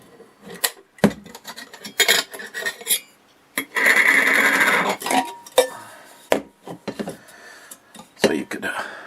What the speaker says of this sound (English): Next item, as though that isn't good enough, is the 2-cup cook set.